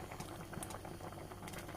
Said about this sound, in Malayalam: ലോ ടു മീഡിയം ഫ്ലെയിമിൽ വെച്ച് ഒന്ന് തിളപ്പിച്ചെടുക്കാം